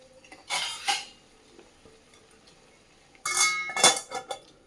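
Metal cookware clatters twice as a lid goes onto a pot of couscous, with two short bursts of clanking and clinking separated by near silence, close and fairly loud.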